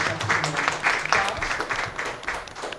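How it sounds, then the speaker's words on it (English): Audience applause for students at a school mini Olympics event, a steady patter of clapping with a few louder surges, fairly close and filling the whole moment. "Let's give them a round of applause"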